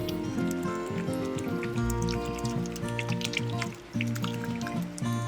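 Activated yeast is stirred into water for focaccia dough, giving soft wet sloshing and dripping sounds that sit under steady background music.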